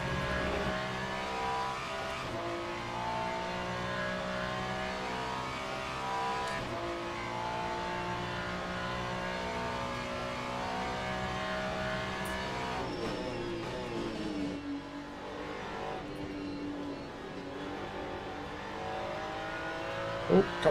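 A race car engine in the racing sim Le Mans Ultimate holds a steady, loud high-revving drone with occasional gear shifts and a brief lift near the end, running almost continuously without talk.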